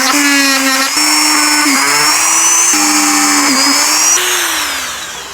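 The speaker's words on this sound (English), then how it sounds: "I'm going to use this to drill the holes" A rotary tool fitted with a cylindrical bit drills holes into a plastic headlight housing, a loud, close, high-pitched whine that shifts pitch as it bites in and eases off, with a few brief load changes.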